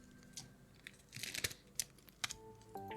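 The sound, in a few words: scissors cutting open Yu-Gi-Oh booster pack packaging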